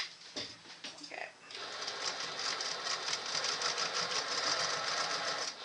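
Sewing machine running steadily for several seconds while stitching a bag seam at a 2.4 stitch length with a quarter-inch seam allowance, preceded by brief handling noises.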